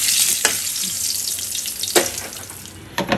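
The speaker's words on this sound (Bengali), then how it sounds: "এখানে যে পেঁয়াজ আর ইলিশ মাছটা ভাজছিলাম" Hilsa fish and onions fry in a pan with a steady, hissing sizzle, joined by a few sharp clinks and scrapes of stirring, close and even throughout.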